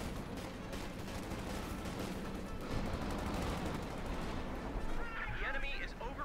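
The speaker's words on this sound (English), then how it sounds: "Tomcat with a fresh assault here with assault rifles ripping through Vic's forces" A Company of Heroes 2 battle rattles with dense assault rifle bursts and grenade blasts, a busy wall of gunfire heard while a commentator talks over it.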